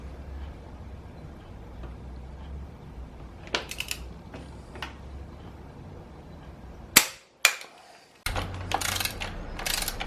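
Rear shock bolts on a Honda CRF250X dirt bike are tightened with a torque wrench, heard as a few faint ratchet clicks followed by several sharp, loud clacks and metallic snaps near the end, set against quiet low hum.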